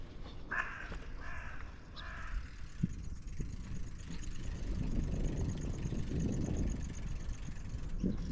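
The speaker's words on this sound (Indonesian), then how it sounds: "Wih, ada burung gagak." Several crows caw in a quick burst of harsh calls early on, moderately near in an open rural area of Japan, while a low engine-like rumble builds steadily underneath.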